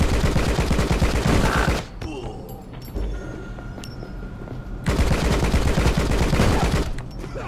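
Rapid gunfire in the side-scrolling action game Rocketbirds: Hardboiled Chicken, two dense loud bursts of automatic shots at the start and end with a quieter pause between.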